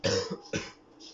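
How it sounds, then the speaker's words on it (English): A person with a cold gives two quick, rough coughs close to the microphone, followed by a softer throat-clearing exhale. "So I have got a little bit of a cough"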